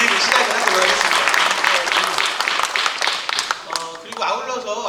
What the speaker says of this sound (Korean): 우리 응원의 박수를 먼저 한번 드리고 시작을 하도록 하겠습니다